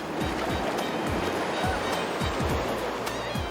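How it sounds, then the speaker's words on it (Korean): Rushing water of the Naerincheon river in Inje after rain, a loud, continuous roar with rhythmic splashing surges, no voices. "비온 끝이라 물소리가 참 좋습니다."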